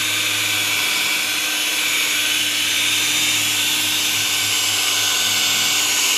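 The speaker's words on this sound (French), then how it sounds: "Simple perceuse." A steady, loud electric drill whirs continuously while it is used to polish car bodywork, with a constant high-pitched motor whine throughout and no talk.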